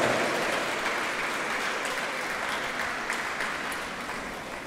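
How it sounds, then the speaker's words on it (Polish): An audience at an eighth-grade graduation ball in Grójec applauds steadily and loudly. The clapping is a dense, continuous wash from many hands that fades slightly toward the end. "pobijmy jeszcze brawo"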